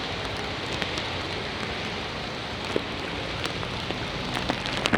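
Heavy rain pours down on a commute by e-bike near an overpass, a loud, steady hiss of drops with a few sharper patters and taps standing out, and no voices.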